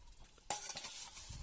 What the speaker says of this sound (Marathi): मग चला आता भांडी कसायचं काम चालाय